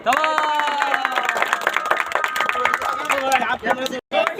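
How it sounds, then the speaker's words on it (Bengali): Scattered clapping from onlookers at a village raft-race prize announcement in Gangaprasadpur, Rajbari. The claps sit under a loud, sustained voice over a loudspeaker, then fade with a brief pause near the end. "সবাই একটু করতালি দেয়।"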